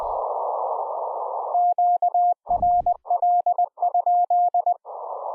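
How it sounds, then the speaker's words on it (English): A remote Elecraft K3 ham radio gives a CW Morse sidetone, a clean steady tone keyed in rapid dots and dashes. It sits between stretches of hissy HF static. "you can hear the side tone and then the audio in the background"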